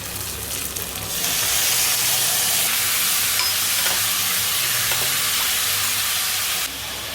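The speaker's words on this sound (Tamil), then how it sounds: "ஒரு அஞ்சு தக்காளி பொடியை நறுக்கி வச்சுருக்கேன் அதை உள்ள போட்டுக்கலாம்" A loud, steady sizzle of chopped tomatoes frying in a hot pan begins after a quieter second and holds with a dense hiss, then briefly drops near the end.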